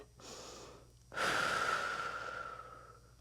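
Breathing during a workout exercise: a soft inhale, then a strong, long exhale with a whistling edge that fades out, heard up close.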